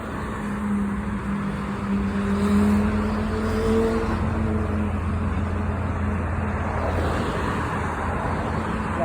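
Cars at a street intersection rumble past and turn right on red, a steady low engine drone with a passing vehicle swelling near the middle, continuous traffic noise throughout.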